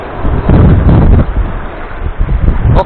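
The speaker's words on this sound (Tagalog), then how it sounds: "Mahangin." Wind blowing across a microphone at a rocky seashore during shore-cast fishing, a steady loud low rumble with gusty buffeting that swells and eases, plus a brief brighter rustle near the end.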